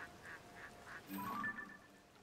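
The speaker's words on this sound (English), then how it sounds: "Okay, that's a duck." Duck quacking in The Legend of Zelda: Tears of the Kingdom, a short faint cluster of nasal quacks midway through over quiet ambient outdoor game sound, with no talking.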